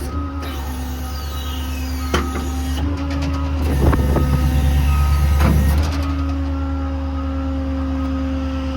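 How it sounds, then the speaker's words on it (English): A 2021 Ford F550 mechanics truck idles with a steady hum, then the engine rises and a few clicks and whirs sound as the PTO engages, the idle settling higher afterward. "Truck will idle up, PTO will kick on."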